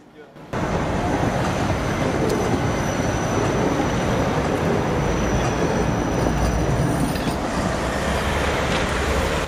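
A Vienna tram ride heard from inside: loud continuous rumble of wheels on rails with faint squeals, steady throughout after a quiet start.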